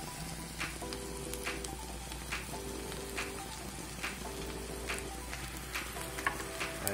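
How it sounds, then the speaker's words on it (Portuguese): Ground beef frying in a pan with onion and garlic for a skillet lasagna, a steady broadband sizzle with occasional crackles and light stirring taps throughout, close and without speech. "Aqui a cebola e o alho já deu uma leve dourada, então hora de colocar a carne moída."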